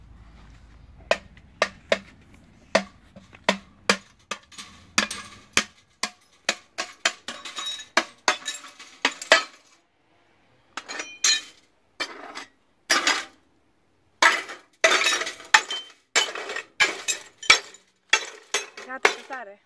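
A computer monitor is smashed with a long series of sharp, loud cracks and clinks of breaking glass and plastic in irregular bursts, separated by brief silent gaps.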